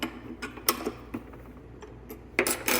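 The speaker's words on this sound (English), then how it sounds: "That was the first click, and now the second click right there." Sharp mechanical clicks from the lift mechanism of a JessEm Mast-R-Lift II router table, a few distinct ticks spread over a few seconds, close and fairly loud with a quiet background.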